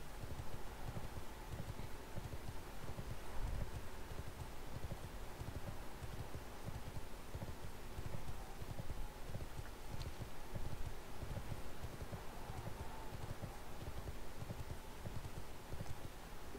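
Steady clip-clop of a riding mount's hooves in World of Warcraft: Cataclysm Classic, a quiet, even galloping rhythm that runs throughout with faint ambient rustle behind it.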